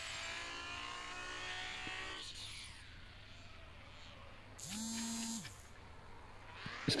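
A car in the racing video game Petrolhead, engine whining at high pitch as it accelerates, then easing off before a short rising rev, close and fairly quiet with no talk.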